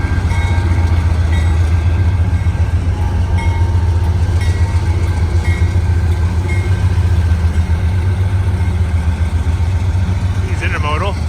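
A Canadian Pacific intermodal freight train rolls steadily past up close, a loud continuous rumble with rhythmic clickety-clack of wheels and a brief high squeal near the end.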